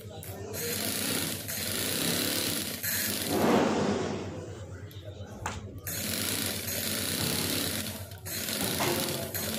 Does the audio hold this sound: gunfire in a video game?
no